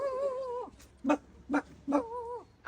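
A person imitates a dog, producing a string of short, barked yelps in a steady rhythm after a brief stretch of speech-like voicing, close and fairly clear.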